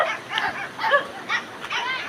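Several dogs bark along a rural road, a handful of short, faint yips and barks spaced irregularly and heard from a distance.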